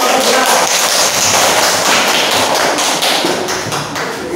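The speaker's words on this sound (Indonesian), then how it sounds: "Ya, tepuk tangan." Classroom students clapping together during a Quranic recitation lesson, a loud, dense, steady wash of applause lasting several seconds with no talk.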